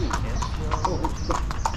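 A horse walks along with clear, close clip-clop hoofbeats in a steady rhythm, heard under a person talking.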